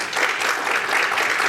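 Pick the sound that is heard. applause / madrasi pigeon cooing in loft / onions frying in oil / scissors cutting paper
applause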